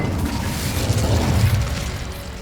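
A fire spell cast in the game Hogwarts Legacy: a sustained roaring, crackling burst with low rumble, steady and loud for a couple of seconds, with no talk over it.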